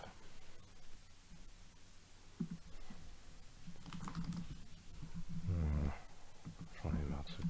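Keys clatter on a computer keyboard in quick irregular bursts, close and fairly faint, while someone talks over part of the typing.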